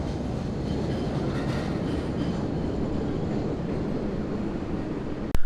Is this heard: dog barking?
no